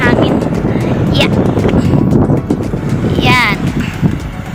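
Strong gusty wind buffets the microphone at a seaside resort, a steady roar across the whole moment, with people talking underneath.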